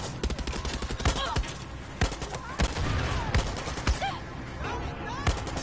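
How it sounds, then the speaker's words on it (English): Gunfire in the video game Far Cry 6 cracks in rapid bursts and scattered single shots over a continuous busy battle din, loud and close throughout. "I don't know who's shooting at me."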